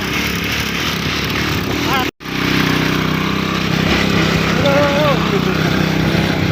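A Euro motorcycle engine strains loudly and steadily while climbing a sandy uphill trail toward a mountain farm, with one brief cut in the sound partway through.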